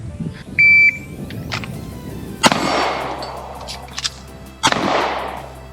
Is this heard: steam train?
no